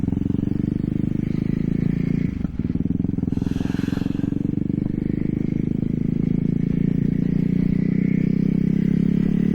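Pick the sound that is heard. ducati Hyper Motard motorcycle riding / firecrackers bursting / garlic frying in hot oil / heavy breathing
ducati Hyper Motard motorcycle riding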